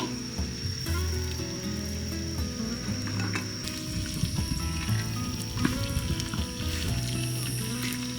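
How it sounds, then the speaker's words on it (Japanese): Steady sizzling and crackling of food frying in a pan, continuous and close, with occasional clinks and scrapes of utensils. "でもちょっとだけジュージューしてるからいけるかな"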